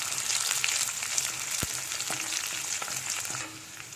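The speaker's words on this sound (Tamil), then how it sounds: "பச்சை மிளகாய், கறிவேப்பிலை இது எல்லாத்தையும் ஆட் பண்ணி நல்லா ஃப்ரை பண்ணிக்கலாம்" Green chillies and curry leaves, along with ginger, fry in hot oil for ven pongal, giving a steady, close sizzle with occasional soft stirring knocks and no talking.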